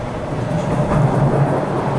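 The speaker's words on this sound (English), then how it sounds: "Yep, there's that Ashmont train." An Ashmont subway train arrives, a loud, steady rumble of wheels and cars rolling along the rails, heard up close without speech.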